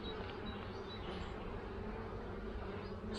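Honeybees buzz steadily around a hive during a colony split, a continuous dense drone filling the whole stretch at moderate level with no voices.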